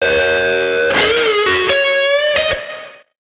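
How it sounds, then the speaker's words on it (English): A distorted, effected synth chord through a Safari Pedals plugin rings with a few sharp hits, then a noise gate abruptly chops its reverb tail into silence, leaving a tight, slappy ending. "Hear how the gate cuts off the reverb?"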